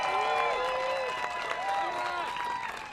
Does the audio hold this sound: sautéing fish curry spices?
no